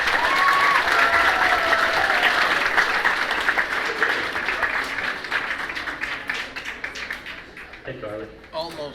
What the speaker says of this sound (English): another round of applause for our junior class